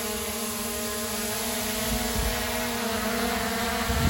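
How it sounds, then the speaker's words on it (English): A Ruko drone hovers with a constant, loud propeller whine and steady humming tones, unbroken for several seconds with no voices. "You see the drones are hovering right there."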